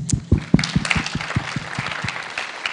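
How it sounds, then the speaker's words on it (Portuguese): A short burst of applause with distinct, fairly loud individual claps in an uneven rhythm, a small crowd clapping nearby. "Salve de palmas essas meninas."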